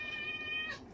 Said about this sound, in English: that's my cat. Sorry, he's hungry.